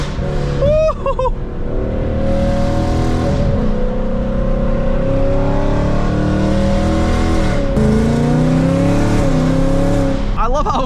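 A 2024 Ford Mustang GT engine revs and accelerates loudly through its gears, the roar rising and falling close by for several seconds, with people talking and cheering over it.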